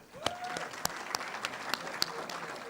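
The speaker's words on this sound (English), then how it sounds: "Please, another round of applause for Mr." Audience applauding at a graduation ceremony, steady clapping from a crowd with a few sharper individual claps standing out, moderately distant and sustained.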